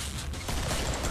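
Gunfire from a shotgun in the video game Killing Floor, heard as a dense, loud burst of blasts with mechanical clatter throughout a short stretch and no talk.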